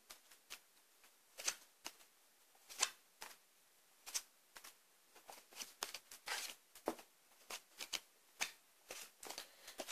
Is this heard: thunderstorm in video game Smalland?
no